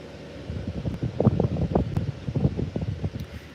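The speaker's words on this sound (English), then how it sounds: "it's windy out here" Gusty outdoor wind buffets the microphone in uneven, rumbling bursts over a steady low background hiss.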